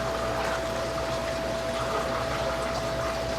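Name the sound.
fish room water pump pumping water through pipe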